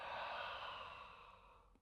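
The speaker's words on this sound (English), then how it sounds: "Exhale through the mouth." A slow, breathy exhale through the mouth during a guided full-body flow breathing exercise, close and soft, fading steadily over about two seconds with no talking.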